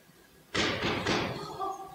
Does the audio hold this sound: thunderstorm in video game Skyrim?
no